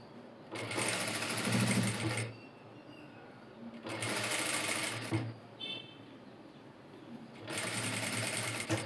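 An electric sewing machine stitches folded fabric on a garment in three loud, steady bursts of fast whirring, each a couple of seconds long, separated by short pauses with faint background noise.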